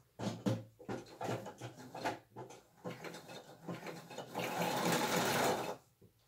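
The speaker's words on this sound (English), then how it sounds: "I am going to take a few stitches right down the center" A sewing machine stitches down the center of paper notepads, a close, loud mechanical chatter of rapid needle strokes that starts in short bursts and then settles into a steady run before stopping.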